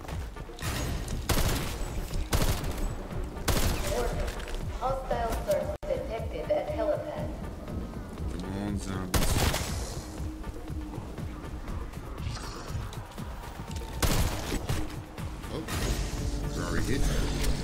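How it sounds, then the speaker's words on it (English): Rapid bursts of AUG rifle fire in Call of Duty Zombies, crackling shots mixed with other game effects and someone talking over them throughout. "Look at the swift shots of the AUG,"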